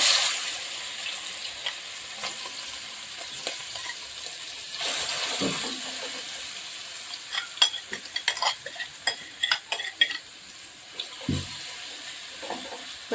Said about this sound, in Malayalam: കൊഞ്ചെല്ലാം നല്ലപോലെ ഇങ്ങനെ വെച്ച് കൊടുക്കുക അതിൽ കിടന്ന് ഫ്രൈ ആവട്ടെ